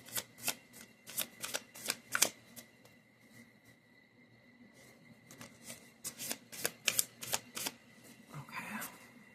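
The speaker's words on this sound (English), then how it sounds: "I cannot shuffle these through. These shuffle so weird" A deck of Lenormand cards being shuffled by hand, giving quiet bursts of crisp riffling clicks in two clusters separated by a short lull, close to the listener.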